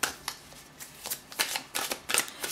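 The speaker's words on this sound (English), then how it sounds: "I'm just going to give it a quick shuffle." A deck of cards is riffled and shuffled several times in quick bursts, close and crisp, with brief pauses between.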